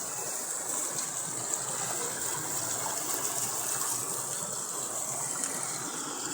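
After heavy rain, rainwater rushes along a roadside drain beside a road. It makes a steady, even, broadband gush that carries on without a break at moderate loudness.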